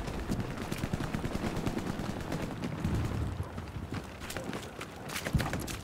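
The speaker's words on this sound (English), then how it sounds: "getting shot at. I don't even know from where." Video game gunfire crackles in rapid, dense bursts throughout, with sharp overlapping shots at varying distances and no speech over them.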